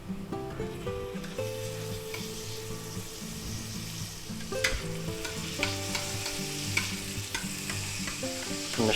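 Garlic and butter sizzle steadily in a pan, a close, continuous frying hiss with occasional stirring scrapes, while faint background music plays underneath and no one speaks.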